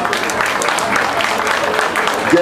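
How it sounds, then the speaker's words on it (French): An audience applauds during a chocolate cooking demonstration, a loud, dense, continuous burst of many hands clapping that fills the short stretch without a break. "on peut les applaudir"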